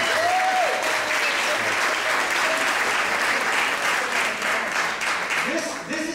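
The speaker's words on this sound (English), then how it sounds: "We'll give him a big round of applause." Audience applause at a health talk in Monmouth County: loud, dense, steady clapping from a full room lasting several seconds, with a voice speaking over the final moments.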